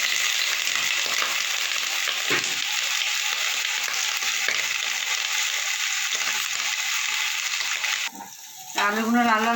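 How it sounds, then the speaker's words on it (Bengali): Potatoes frying in about two spoonfuls of hot oil in a kadai wok, a loud close continuous sizzle with occasional stirring, then it drops away and someone speaks at the end. "আলুটা আমি ভেজে নেব।"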